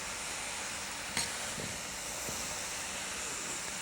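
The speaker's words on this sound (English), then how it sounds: "I'm going to steam it, and as it needs a little bit on the bottom so things don't burn, I'll put a little bit of water" Vegetables steaming in a wok with a little water give a steady, even hiss that fills the whole stretch, with a few faint clicks and knocks under it and no voices.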